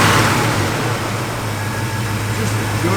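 A 1969 Chevrolet Chevelle SS with a Hurst shifter runs close by, its engine a loud, steady, smooth rumble with broad roar throughout and no speech over it.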